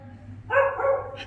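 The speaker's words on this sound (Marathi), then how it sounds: "कुत्रा भोकत आहे तुला." A dog gives a single short, near bark, preceded by a quiet room hum.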